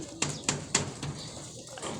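Racing pigeons coo and flutter during a training session, several soft, close calls and sharp taps early on, then a quieter murmur of birds with faint background noise.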